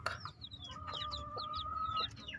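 Hens cluck and chirp softly in a busy farmyard, short repeated calls overlapping with a faint steady background hum.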